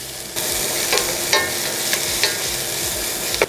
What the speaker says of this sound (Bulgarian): Ето разбърквам от време на време.